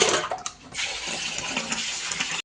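Water gushes steadily from a tap onto raw chicken being washed in a kitchen, a close, continuous splashing rush that cuts off abruptly at the end.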